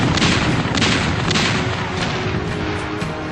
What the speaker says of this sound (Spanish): los disparos se realizaban con todo el armamento disponible, ocasionando graves daños al buque y a la tripulación